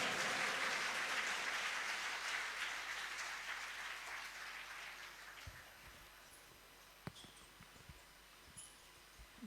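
Audience applause at a college reception and orientation ceremony at Rajshahi College, loud sustained clapping from a large crowd in a hall that gradually thins out, leaving scattered claps and small noises toward the end.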